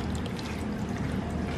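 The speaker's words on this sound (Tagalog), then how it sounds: "So, tatapon mo yung tubig." Water pours steadily out of a fish container in a garage, a continuous splashing rush that stays close and even throughout, with no talk.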